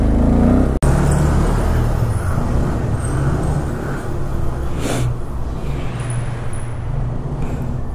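A motorbike engine climbs a hill on a wheelie, a steady close low drone with wind buffeting across the whole stretch and one sharp dropout near the start.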